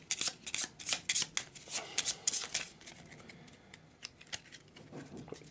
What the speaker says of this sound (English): let's get the grey deck for the East Town Streets area. Quick shuffle.